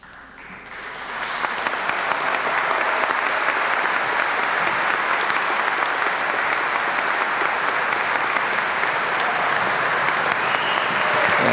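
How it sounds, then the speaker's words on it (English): A large crowd gives a standing ovation at a coach's retirement celebration. Applause swells in during the first second, then holds as a loud, dense, continuous wash of clapping for about ten seconds. "the crowd giving her a standing ovation"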